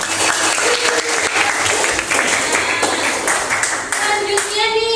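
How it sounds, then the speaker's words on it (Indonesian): Students clapping in a classroom during a lesson on stress, strain and elasticity, a lively, close burst of hand claps with a few individual sharp claps standing out and faint children's voices mixed in. "Tepuk tangan dong buat."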